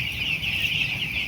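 Chickens on a poultry farm, some sick with colds, giving a continuous, fairly loud nasal clucking chorus close by, with no talk.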